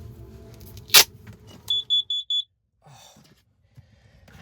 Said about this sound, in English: It just will not stop beeping.